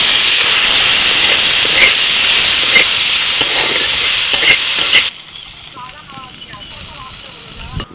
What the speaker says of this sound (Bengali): আলুটা ভেজে তুলে নিয়ে দিয়ে দিচ্ছি চিংড়ি মাছ